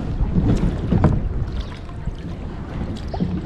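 Kayak paddling through still water in the mangroves of Abu Dhabi's Mangrove National Park, with soft paddle splashes and wind buffeting the microphone in a steady outdoor wash.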